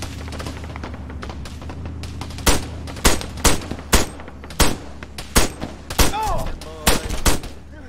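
Heavy machine gun tower in the Arma 3 video game firing in sharp, loud bursts of several rounds each, repeating every half second or so and echoing across city streets, with faint sounds of other combat underneath.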